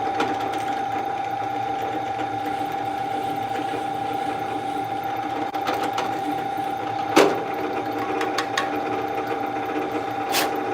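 A drill-driven countersink cuts shoulders into bolt holes of a knife handle, giving a steady close motor whine throughout with a few brief clicks and one sharp knock, with no speech.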